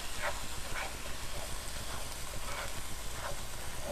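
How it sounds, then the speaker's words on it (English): Ground turkey sizzles in a pan for a turkey barbecue dish, a steady close frying hiss with faint crackles throughout. "Sizzling now. It is sizzling now."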